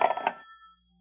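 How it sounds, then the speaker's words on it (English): An old-fashioned telephone bell gives two quick trills, then a short fading ring in a 1940s radio drama, distant-sounding and alone. "The telephone sounded like it was ringing miles away."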